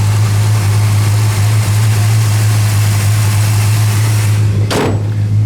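A 1970 Dodge Charger's 440 V8 idles loud and close with a steady deep rumble, then one brief sharp burst of noise near the end.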